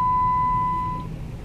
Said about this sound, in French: Mon char, il arrête pas de biper